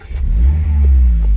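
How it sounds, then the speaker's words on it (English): A Mazda MX5 1.5 convertible engine cranks and fires up, settling into a loud, raspy idle with a brief rev, close by and with no talking. "Nice raspy note when the car starts"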